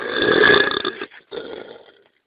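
Loud, drawn-out burps from Italian friends, two in a row close to the mic with a brief gap between, each raspy and sustained.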